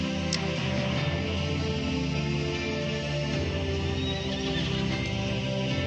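A horse neighs and whinnies in the mobile game Perfect World Mobile, a steady animated cry over game music lasting the whole stretch, with no talk.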